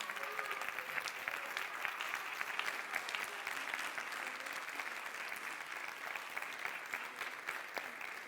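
Sustained audience applause fills the hall at the final night of a Neapolitan talent show, dense steady clapping from a crowd without a break for several seconds.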